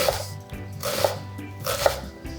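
A knife dices half an onion very finely on a board. Three firm, evenly spaced chopping knocks come close up over quieter rustling.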